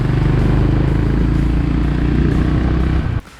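A 2025 Honda CB350 RS motorcycle engine runs loud and close with a steady, even thrum, then cuts off abruptly near the end.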